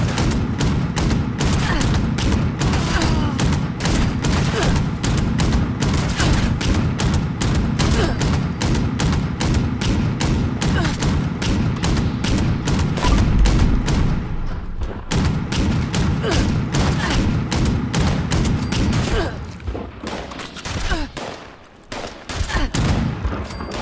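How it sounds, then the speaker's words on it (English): Rapid, continuous gunfire from a weapon in Fallout 76 rattles on for most of the stretch, loud and dense, before thinning into scattered shots near the end. "Wait, just ignore all those shots"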